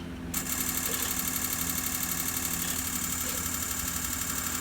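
A bus engine in a bus barn turns over and catches about a third of a second in, then runs at a steady, loud idle with a constant rumble and faint knocking, heard alone at close range.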